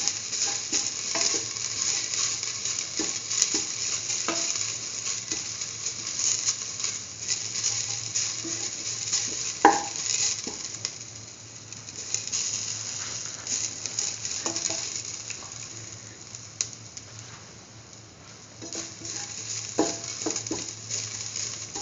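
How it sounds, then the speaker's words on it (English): Sautéing in a pan for a sweet coconut chickpea flour toast sandwich filling: a steady soft sizzle with scattered scrapes and clicks of stirring, fairly quiet and continuous, no voices. "keep on sauteing"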